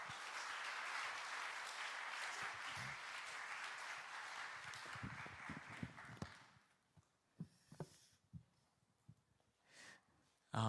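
Congregation applause at a youth Sunday worship service in a church, steady and full for several seconds before breaking into scattered, fading claps and a few isolated hand sounds.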